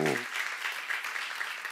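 A congregation at a church seminar breaks into applause, a brief burst of steady clapping after a short spoken word at the start, moderately quiet in a large room.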